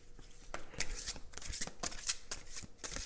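Tarot cards are shuffled and drawn by hand, a close, busy run of crisp riffling snaps and papery slaps in quick irregular rhythm, with faint background talk.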